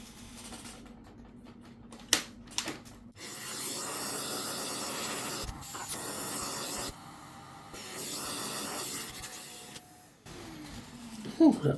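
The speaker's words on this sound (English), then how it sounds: "Time for the hoover again." A vacuum cleaner hoovers dust out of a desktop PC, its steady hissing suction running loud and continuous for long stretches, cutting out briefly and restarting, with a few knocks and clicks in between.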